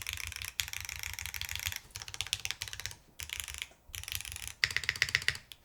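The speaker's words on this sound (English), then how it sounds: "You can kind of hear a little bit of echoing underneath the spacebar with zero foam in this thing right now." Rapid typing on a Womier SK71 Pro mechanical keyboard with no foam inside, dense bursts of sharp, slightly hollow clacks in several runs separated by brief pauses, heard close and alone.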